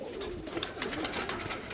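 Pigeons, including an old Madrasi breed, coo softly while waiting to bathe on a cloudy day, a low steady murmur of soft calls with a few brief brighter notes, no voices over it.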